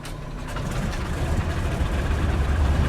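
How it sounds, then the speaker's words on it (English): The left piston engine of a twin-engine aircraft in a MilViz flight simulator starts and settles into a steady, continuous rumbling drone, growing slightly louder and holding an even idle with no talk over it. "Got our left engine going"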